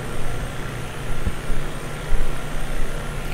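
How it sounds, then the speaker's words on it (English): A helicopter in a flight simulator game flies over a tropical island, giving a steady, dense engine and rotor roar that drones on without pause at a constant level. "Wait for our little helicopter to catch up with us here."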